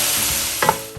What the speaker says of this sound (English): Okay, give it a nice stir,